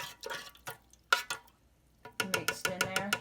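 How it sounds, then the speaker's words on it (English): Spoon stirring a yeast mixture for bread dough in a bowl, a few soft scraping strokes, then a quick run of close, rhythmic stirs that grow steadier near the end. "And then you just stir it around just a little bit"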